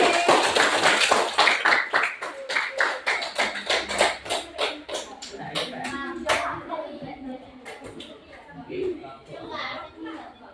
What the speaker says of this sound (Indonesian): sekali lagi beri tepuk tangan untuk kelas 8D